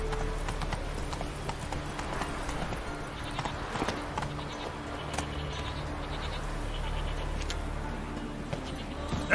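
Hooves of a horse galloping in The Witcher 3 drum steadily under game music and ambience, with brief snorts mixed in; a voice speaks over the ride.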